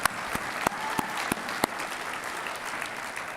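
Audience applause at a college football awards ceremony, a steady wash of clapping with a few sharper claps standing out, fairly distant and moderate in volume, with no talking.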